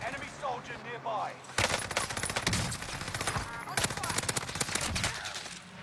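Video game gunfire erupts in dense, rapid bursts of automatic shots after a short stretch of a voice speaking, continuing loud and sustained to the end.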